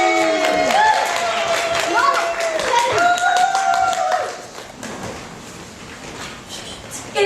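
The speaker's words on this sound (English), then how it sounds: "But we now have, coming up for you, a nice warm round of applause for a monologue performed by Rachel!" Warm audience applause and scattered clapping from a crowd at an 80th birthday celebration show, loud for the first few seconds and then fading to lighter, sparser claps before a final burst.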